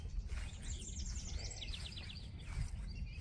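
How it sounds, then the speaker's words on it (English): A song sparrow sings from a thicket along an old field trail, giving faint, rapid trilled phrases in two short bursts over a soft, rumbling outdoor background. "I think a song sparrow's nesting in there."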